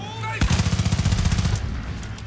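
Rapid automatic gunfire in the video game Far Cry 5, a loud close burst of roughly a dozen quick shots lasting about a second, followed by fading echo.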